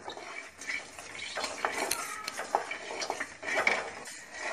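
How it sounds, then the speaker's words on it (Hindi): Fenugreek seeds are stirred as they roast in a pan for garlic pickle, with a metal spoon scraping and clinking against the cookware in a busy, close, irregular clatter. "फिर ये हम मेथी के दाने डालेंगे, इनको चलाते रहना है साथ में।"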